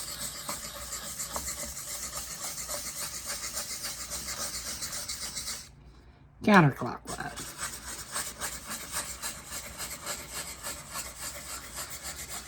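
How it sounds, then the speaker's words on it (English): A blade grinds and rasps into rock with steady scraping strokes, briefly cut off by a pause and a sharp burst before the gritty rubbing resumes. A voice gives a short spoken instruction over it. "the blade sounding like it's trying to cut into the rock"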